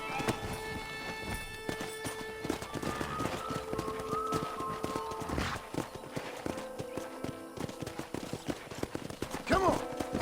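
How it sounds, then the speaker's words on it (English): A pack of wild horses gallops in the Red Dead Redemption video game on PS5, rapid clip-clop hoofbeats pounding close and loud with a whinny near the end, under a faint bed of game ambience. "there's a pack of wild horses nearby"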